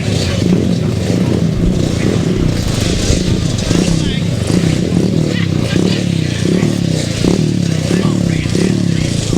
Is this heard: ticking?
no